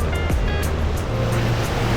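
Ocean waves roll onto Sanglen beach in Yogyakarta, a dense, steady roar of surf filling the air, loud and continuous without any voices.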